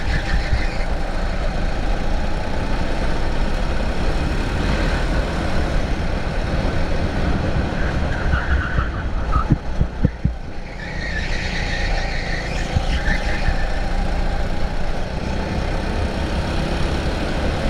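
A go-kart engine races steadily through a league race, a loud, continuous droning buzz with small dips in pitch and level as the kart works around the track, with no voices.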